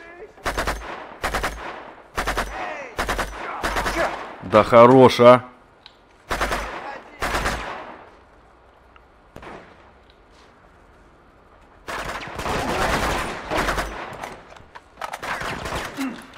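Gunfire in the video game Uncharted 2, with bursts of rapid automatic shots and single cracks in clusters, separated by quieter stretches, while someone talks between and over the shots.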